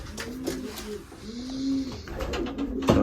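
Racing pigeons coo outdoors around their loft, repeated soft throaty calls in a low rolling rhythm, fairly close, with rustling and light knocks between the coos.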